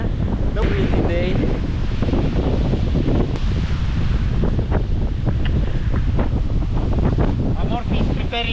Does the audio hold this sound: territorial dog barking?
no